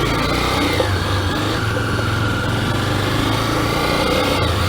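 A motorcycle engine drones steadily during a ride, a loud, continuous high-revving hum with wind rush and no break or talk.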